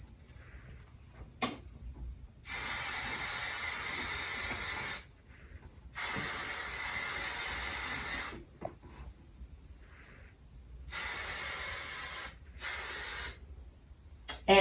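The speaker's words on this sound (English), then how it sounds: "You're gonna spray it all on this part, the outside of the lace and the inside of the lace." Spray bottle hisses onto a wig's lace in several long sustained bursts, loud and close, with quiet gaps and small handling taps between them.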